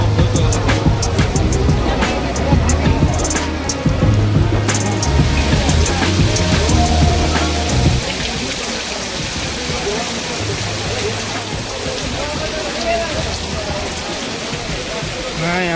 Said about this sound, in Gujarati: હા આ રીતનો વરસાદ શરૂ છે. ફૂલ ધમધોકર વરસાદ પડી ગયો.